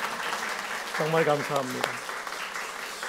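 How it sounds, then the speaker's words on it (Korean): A church congregation at Sunday worship applauds, a steady wash of clapping that runs throughout, with someone briefly speaking over the middle of it. "이 시간 우리 옆에 계신 분들에게 박수로 한번 격려할까요?"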